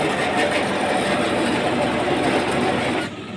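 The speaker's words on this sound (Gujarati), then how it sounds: "ક્યાંક આવું ટ્રેક્ટર આવે છે" A farm tractor working with a chaff cutter machine gives a loud, steady, heavy engine rumble that runs continuously and drops off sharply just before the end.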